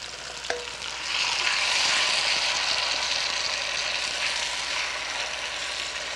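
Tomatoes drop into hot olive oil and sizzle, a sharp hiss rising after a brief clatter and holding as a loud, steady frying sound close by, with no talking.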